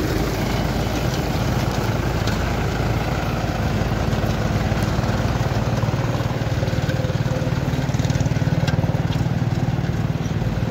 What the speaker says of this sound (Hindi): अभी हैरो का कार्य दिखाते हैं आपको।